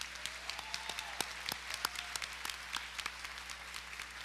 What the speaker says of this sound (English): Can everybody please give my husband a round of applause